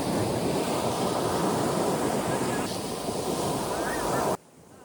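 Waves wash strongly onto a beach near Pondicherry as a loud, continuous roar mixed with wind buffeting. It cuts off abruptly near the end.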